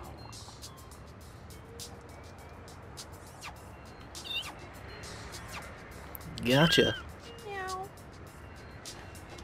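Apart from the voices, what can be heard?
cat meowing in No More Heroes video game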